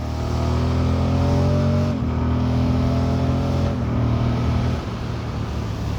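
A 2024 Moto Guzzi Stelvio motorcycle rides along with a steady, loud engine drone and a couple of gear-shift dips in pitch, wind rushing over it.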